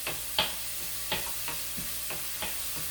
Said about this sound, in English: So we're going to add the onion. Saute it down till it becomes like translucent.